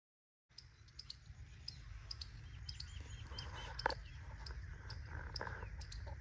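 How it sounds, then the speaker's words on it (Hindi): Small birds chirp and tweet in quick repeated calls at a farmhouse in the early morning, moderately near, over a steady low rumble of background noise. "सुबह सुबह फार्म हाउस पे इन खूबसूरत सी चहचहाती आवाज़ों में परिंदों की"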